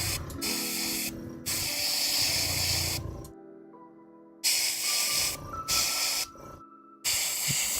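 Airbrush spraying paint in bursts of steady hiss, several long sprays broken by short pauses and one longer quiet gap, close and fairly loud with no talk.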